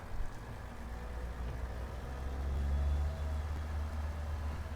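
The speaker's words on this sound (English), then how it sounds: "It's a little raspy, a little whiny, but I'm okay with that. That's the turbocharger whistling away." A Caterpillar truck engine in American Truck Simulator drones steadily at low pitch, a faint whining turbocharger whistle riding above the raspy rumble, which swells slightly midway and holds without talk.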